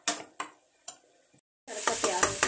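Tadka for sambar sizzling and being stirred in a pan with softened tomatoes, a few sharp scraping strokes followed by a steady loud frying hiss with repeated stirring.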